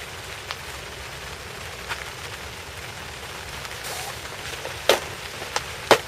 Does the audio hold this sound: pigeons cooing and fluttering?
no